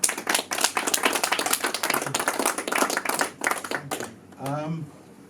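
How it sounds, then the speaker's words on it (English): Audience applause at a bookshop author talk, many hands clapping steadily for about four seconds before fading, followed by a voice beginning to speak. "So ladies and gentlemen, Nick and Richard, big round of applause."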